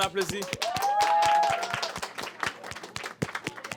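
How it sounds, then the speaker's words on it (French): Audience applause at a fashion judging competition: a short burst of clapping and cheering, with a voice over the start that fades into scattered claps. "On applaudit."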